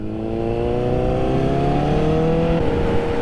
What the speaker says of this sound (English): Oh, I love the way my bike sounds.